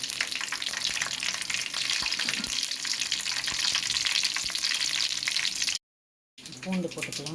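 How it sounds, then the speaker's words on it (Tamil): Food frying in hot oil for a fish curry, a dense continuous sizzle close up that breaks off briefly into silence near the end before resuming with some clatter. "நல்லா பொரியட்டும்"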